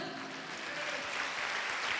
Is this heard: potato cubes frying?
no